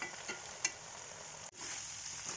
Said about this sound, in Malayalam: ഇനിയും ഒരു 3-4 മിനിറ്റും കൂടെ ഫ്രൈ ചെയ്തെടുക്കുക.